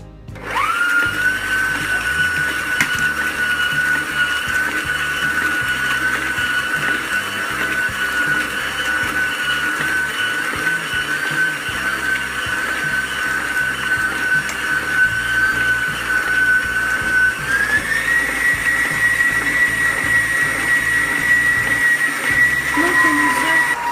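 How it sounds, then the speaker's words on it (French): An electric mixer whisks cupcake batter until it turns pale, giving a loud, steady high whine that runs without a break and rises slightly in pitch partway through. "On va fouetter jusqu'à ce que le mélange blanchisse."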